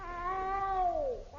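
A cat's single long meow rises and then slides down, clear and close, in a vintage radio comedy, with a quiet background and no talk.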